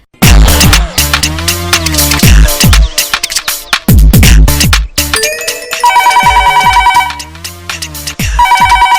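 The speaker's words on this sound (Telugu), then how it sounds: "రింగ్ అవుతుంది, లిఫ్ట్ చేయదేంటి?" A phone ringtone rings loudly and repeatedly in a TV comedy scene, a steady electronic melody cycling over and over with no voices over it.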